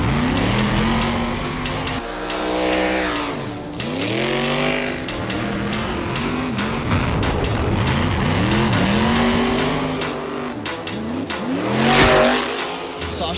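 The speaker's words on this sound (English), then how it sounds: "It's just Alan's time to warm up, get comfortable in the car" A stunt car revs hard and swings through repeated slides, its tires squealing loudly in long sweeping arcs, the engine rising and falling throughout at close range.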